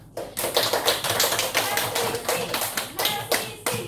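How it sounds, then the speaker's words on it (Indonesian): A small group claps in a quick, uneven burst of applause, steady for a few seconds, close by, with no talking. "Beri tepuk tangan."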